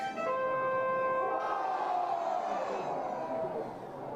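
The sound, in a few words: lively crowd at a baseball ballpark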